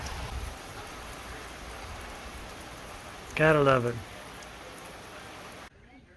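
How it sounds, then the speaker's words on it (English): Steady hiss of rain falling outside an open garage, soft and even throughout, with someone speaking briefly over it midway. "Standing here in the garage, nice and cool, and raining."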